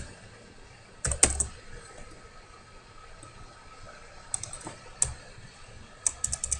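Computer keyboard keys tapped to delete text, a few short clusters of quick clicks separated by quiet pauses, close and fairly soft with no talking.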